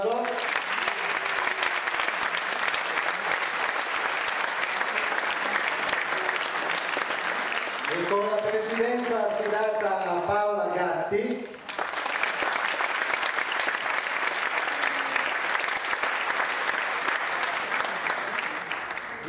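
Audience applause at a music festival choir presentation in Portacomaro runs as a steady dense wash, with someone speaking over it partway through.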